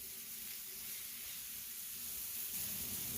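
Steaks sear on a Blackstone flat top griddle beside peppers and onions, giving off a steady, faint hiss of sizzling fat that holds evenly without pause.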